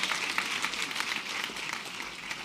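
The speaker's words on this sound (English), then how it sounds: "Give a round of applause to her." At a university graduation ceremony in a hall, an audience gives a round of applause, a dense continuous patter of many clapping hands lasting a couple of seconds.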